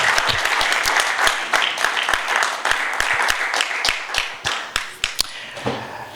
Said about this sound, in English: Shall we clap our hand and say thank you?